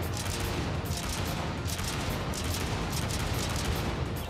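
Rapid shotgun fire in the video game Jack Styler, a dense, sustained barrage of blasts layered with chaotic combat noise, loud and continuous without talk.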